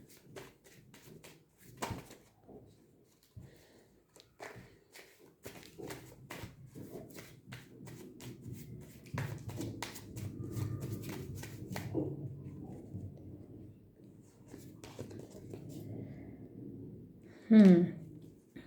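Tarot cards shuffled and drawn by hand during a reading: soft riffling and card slaps in bursts, mixed with someone speaking, ending in a sharp card snap near the close.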